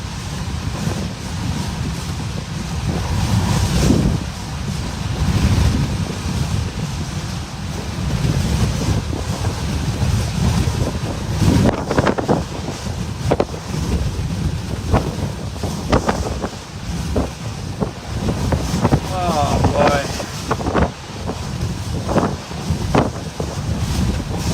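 Strong hurricane wind gusts roar and buffet the microphone without letup, a loud, churning broadband rush with sharper buffeting bursts toward the end and no voices.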